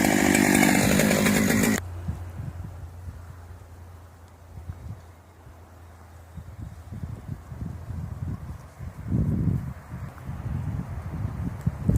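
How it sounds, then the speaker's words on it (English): A chainsaw roars loudly for the first two seconds while felling a large tree in a snowy forest, then cuts off, leaving low rumbling wood and wind noise with scattered thuds. "He started the chainsaw, the saw blade roared"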